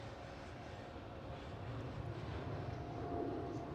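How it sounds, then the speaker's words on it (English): A Qatar Cargo Boeing 777 departs Amsterdam Schiphol, its engines giving a steady broad roar that swells slightly toward the end, heard from a distance. "Qatar Cargo 777 departure."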